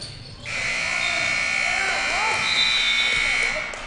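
A sustained electronic buzzer blares loudly for several seconds at the end of a high school basketball quarter in a gym, with crowd noise and a commentator's voice underneath.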